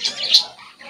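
A cockatiel gives a short, sharp, close chirp, a couple of bright whistled notes within a second.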